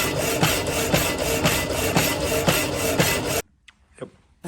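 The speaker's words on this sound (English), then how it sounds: "This is the saw that was used by my father, possibly by my grandfather as well" An old hand saw cuts through bar stock for engine lifting eyes, giving steady, close rasping strokes at a regular back-and-forth rhythm that stop abruptly, leaving a few faint knocks and clatters.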